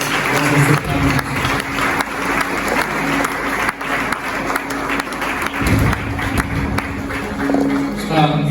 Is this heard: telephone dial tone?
no